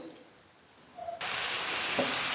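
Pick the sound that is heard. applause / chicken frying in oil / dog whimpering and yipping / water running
chicken frying in oil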